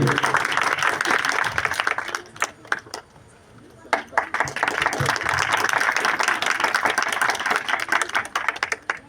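Audience at a Dr. Bhimrao Ambedkar Jayanti celebration applauding, dense clapping that fades briefly and then rises again, with some voices mixed in.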